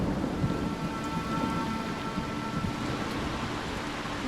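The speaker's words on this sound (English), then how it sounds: "Storm must have knocked out the power." Heavy rain falls in a continuous dense patter, with a low thunderstorm rumble beneath it, in the haunted-house game The Haunting of Joni.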